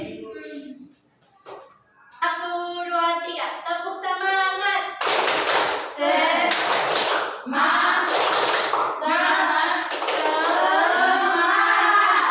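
Children clapping their hands together in a classroom, a burst of fast, overlapping claps near and loud, mixed with a teacher's voice and kids' chatter.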